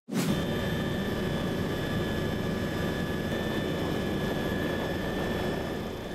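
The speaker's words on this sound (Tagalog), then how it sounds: "Sinubukan pang sakyan ng IBC News Team ang isa sa mga chopper ng Coast Guard." A Philippine Coast Guard helicopter in flight gives a steady, loud, unbroken engine and rotor drone with a constant whine, heard from inside without pauses.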